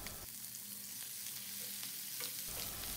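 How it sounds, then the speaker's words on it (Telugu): Chopped tomato stirred into frying bitter gourd curry gives a faint, close sizzling hiss with soft scraping of a spoon, quiet throughout the short stretch. "కట్ చేసిన 1 టమాటా వేసి బాగా కలిపి"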